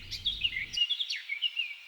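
Small birds chirping outside a window, a quick run of high, thin tweets and trills that repeat over about two seconds, fairly clear and close, with a low rumble of background noise briefly underneath at the start.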